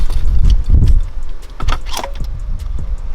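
A throttle body being pulled off a Lexus IS300 engine, with close, fairly loud metallic clunks, scrapes and rattles of parts and tools and no talk.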